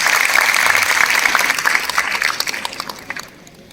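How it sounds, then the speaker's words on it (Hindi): Audience applause at a Vaishya community conference awards event, a burst of clapping that fades out within a few seconds. "यदि कामयाब लगा तो एक बार तालियां जरूर बजाएं"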